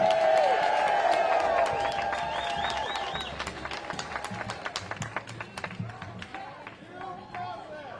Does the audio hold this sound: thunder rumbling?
no